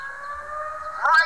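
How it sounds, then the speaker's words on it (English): An outdoor noon siren sounds as a steady, sustained wail, heard from a distance and fairly faint, with a brief louder swell near the end. "As you can hear the sirens going off"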